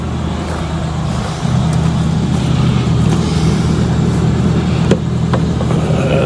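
An old Ford Explorer with a 4-liter engine idles steadily nearby, a continuous low rumble with a slight rise in level early on and no talking.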